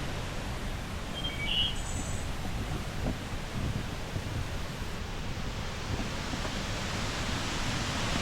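Waterfall at Keujhara, heard from someone climbing up beside it, forming a constant, dense roar of water with a few faint bird chirps early on and no talking.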